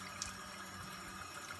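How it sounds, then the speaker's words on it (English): Tap water runs in a steady close stream while a fountain pen syringe is rinsed underneath, giving an even, continuous rush with faint gurgles. "I just put it in a stream of water"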